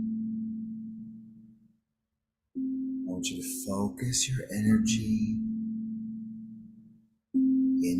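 Low, sustained meditation tones drone quietly beneath a calm spoken voice, fading out and then resuming as another steady tone near the end.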